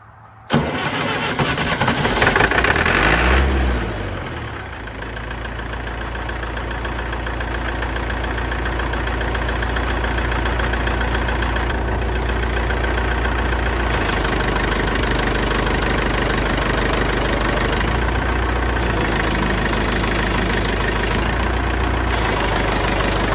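A 50-year-old tractor engine cranks and catches with a loud burst, then settles into a steady, knocking diesel idle that runs on evenly and close by, with no talk.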